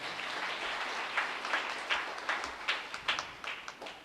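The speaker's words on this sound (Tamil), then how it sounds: "நல்லா கைத்தட்டுங்க" A crowd claps at a Catholic church festival Mass, with steady scattered applause throughout and a few louder individual claps standing out near the end. The clapping is moderately distant and there is no talking over it.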